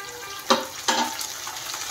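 Dried fish frying with onions and green chillies in a pan for an eggplant curry, giving a close, soft sizzle with two sharp bursts of stirring or spattering and no talk.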